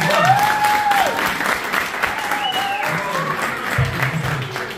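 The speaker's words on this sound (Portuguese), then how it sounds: "Uma só de palmas à Margarida." Audience applause for a girl named Margarida at a First Communion celebration, steady clapping that lasts throughout, with a few voices and whoops calling out over it.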